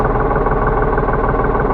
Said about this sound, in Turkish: Yine traktörümüz Nevorlan TT50 mavi boncuk.